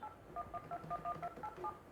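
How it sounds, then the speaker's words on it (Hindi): A Panasonic NS300 telephone system dialing a number: a quick run of about a dozen short, evenly spaced touch-tone beeps, clear and fairly close, with no talking. "अब हम कोई भी नंबर डायल करके देखते हैं"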